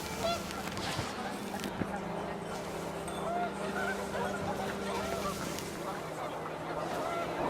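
Panicked geese honk amid rising wind in the video game What Remains of Edith Finch, repeated calls over a steady wash of wind and ambience, with a narrator speaking over it.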